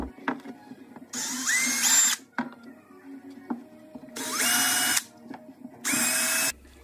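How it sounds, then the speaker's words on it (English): A power drill whirs in three short bursts, winding up and biting into wood while drilling bolt holes for a table saw stand, with clicks and handling noises between the runs. "now I'm just drilling the feed out for the table saw so the bolts will fit through"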